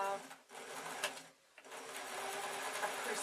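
A sewing machine runs in steady bursts while top stitching shirt fabric, with a brief pause midway before the whirring needle resumes.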